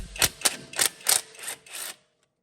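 A ratchet wrench working loose a 10mm bolt that holds the wheel speed sensor wire on a Honda Pilot, six quick clicking bursts in an even rhythm, close and fairly loud, then silence.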